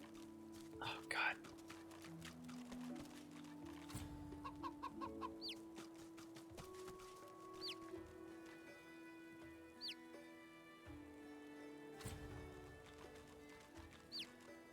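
Chickens cluck near a coop in the video game Divinity Original Sin II, with short scattered clucks over steady game music and soft ambient tones, plus a faint, hushed voice.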